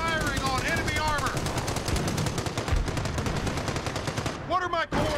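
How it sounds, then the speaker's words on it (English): Rapid machine-gun bursts and gunshots fill a Company of Heroes battle scene, loud and continuous with dense overlapping fire and faint radio-style voices, easing briefly near the end before firing resumes. "Firing on enemy armor."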